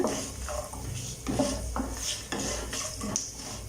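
Dal and asafoetida roast lightly in hot oil in a pan for coconut rice, with a quiet low sizzle under repeated clinks and scrapes of a spoon against the metal pan, close and alone.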